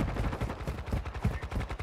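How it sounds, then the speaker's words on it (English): Rapid bursts of shotgun fire in the video game Call of Duty: Modern Warfare II, several loud close blasts in quick, uneven succession over dense game noise. "Let's see how you like that shotgun now."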